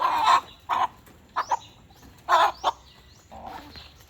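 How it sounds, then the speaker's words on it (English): A Rhode Island Red rooster clucks close by in short bursts, five or six quick calls with brief pauses between them, no talking. "Actually, this is the rooster right here."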